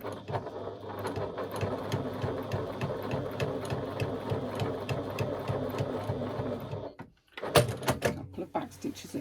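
A sewing machine stitches down the central chalk mark on a pocket, its rapid steady whirr running for about seven seconds before a brief pause and a short second burst of stitching.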